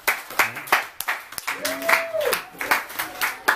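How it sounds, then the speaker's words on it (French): A few people give sparse, distinct handclaps in a loose rhythm for a seven-year-old child. The claps sound close, and a voice speaks between them. "Bravo, faut applaudir, non?"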